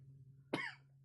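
A single sharp cough after drinking too fast bursts out close and loud, followed a moment later by the start of a second cough, over a low steady hum in a quiet room.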